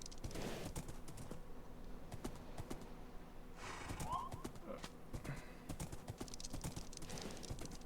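Horse hooves galloping in a video game, rapid clip-clop rhythm at moderate distance mixed with faint clicking, a brief whinny midway, low overall level.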